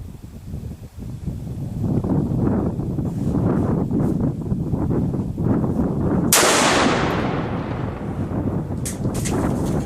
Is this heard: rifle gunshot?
yes